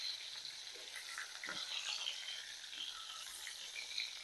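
Raw mango stirred into hot tempering for a sour dal, giving a soft, steady sizzle with faint stirring scrapes, quiet and close.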